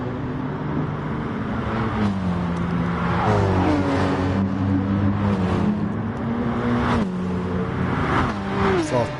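Race cars in a PS4 racing game run at over 140 miles an hour in fifth gear through a right-hander, engines droning and rising in pitch as they pass, under a commentator's voice.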